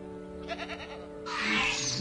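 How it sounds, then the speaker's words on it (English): A goat bleats in the dinosaur park game Jurassic World Evolution, with a short wavering cry followed by a louder, broader burst of game sound, close and clear with no talk. "That goat is clueless until it's too late."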